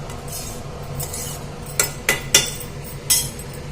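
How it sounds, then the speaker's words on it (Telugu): Cooked rajma curry stirred in a bowl with a spoon, a few distinct clinks and scrapes of utensil on the bowl standing out over a quiet kitchen background hum. "ఒక గిన్నెలోకి అయితే తీసేసుకొని మిక్స్ చేస్తాయి"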